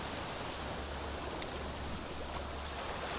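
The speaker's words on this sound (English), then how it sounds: "Just the sound of the waves" Steady, soft wash of small ocean waves breaking nearby at Torre del Charco, a continuous gentle surf hiss with no voices.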